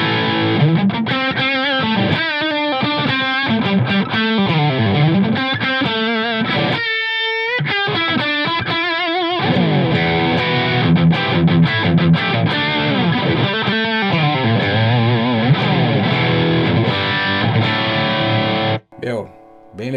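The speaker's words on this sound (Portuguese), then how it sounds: "Agora o som saturado, também não está ligado nada, vamos tirar esse reverb aqui" Electric guitar played through a Taurus SH3 Stomp-Head amp on its saturated channel, miked with an SM57, gives a loud, continuous distorted tone of chords and riffs with sustained notes, cutting off briefly near the end.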